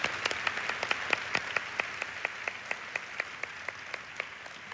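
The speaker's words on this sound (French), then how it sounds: "Nous allons applaudir nos internautes qui regardent par streaming." Church congregation applauding at a bilingual worship service, steady dense clapping with sharp individual claps standing out, continuous and fairly loud throughout.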